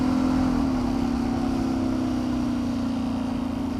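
A diesel-powered KLR motorcycle engine runs hard at high revs, a loud steady buzzing drone whose pitch dips slightly early on and then holds, with no talking.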